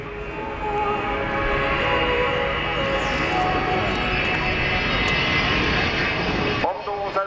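A large bomber with jet engines, a version of those that powered Concorde, roars past at an air show, a loud sustained rumble and whine that holds steady before trailing off near the end.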